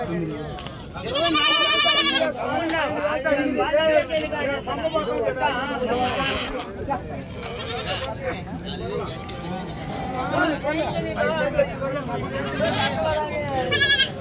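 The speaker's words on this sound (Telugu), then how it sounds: "ఇక్కడ ఉన్నాయి గొర్రెలే ఇవి" Sheep and goats bleating at a busy livestock market in Angallu during Eid, repeated loud nearby bleats over a constant hubbub of people talking and bargaining.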